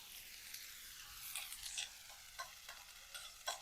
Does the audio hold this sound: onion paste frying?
yes